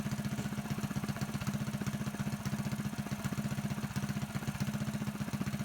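A Predator 224 mini bike engine fitted with a Mikuni VM22 clone carburetor idles steadily, a fast even chugging pulse that stays loud and close throughout with no talking.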